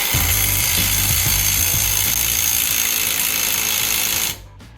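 A cordless impact wrench hammers a lug nut on a stud installation tool, trying to draw a rear wheel stud into an International Scout II hub: a loud, continuous rattling clatter that cuts off abruptly near the end.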